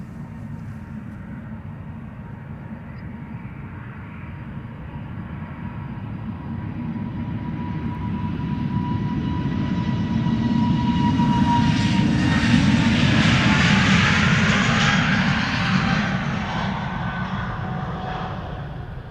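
A Delta Airbus A330 jet departs Amsterdam Schiphol Airport, its engine roar building steadily from a distant rumble to a loud, broad peak as it passes, then beginning to fade.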